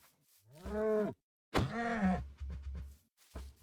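A cow in the Minecraft video game gives two long, clear moos, followed by a few short grunting lows, all close and alone with silent gaps between them.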